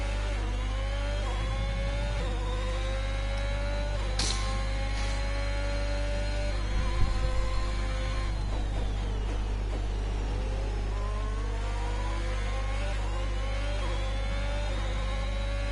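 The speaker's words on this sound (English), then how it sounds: "I love the sound of these engines." Formula 1 car engines rev in the F1 2021 racing game, a steady high-pitched engine whine with rising and falling pitch sweeps and a few sharp bursts, continuous over constant background hum with no talking.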